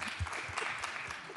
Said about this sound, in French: Vous pouvez vous applaudir pour rester actif